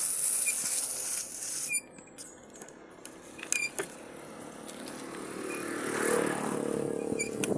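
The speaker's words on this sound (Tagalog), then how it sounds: "Daming motor." Motorcycles pass on a busy road, a faint engine rumble swelling and fading near the end over quiet background squeaks and clatter.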